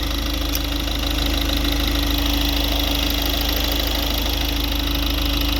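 Rebuilt car engine idling steadily once warmed up, a loud continuous mechanical hum with a faint rhythmic ticking, close by and without any talk.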